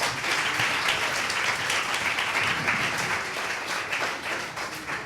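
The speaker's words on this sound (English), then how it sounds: "first another round of applause for our four Midnight Robbers" An audience at a Midnight Robber performance event applauds the four performers, a dense, steady wash of many hands clapping at close range, sustained evenly throughout.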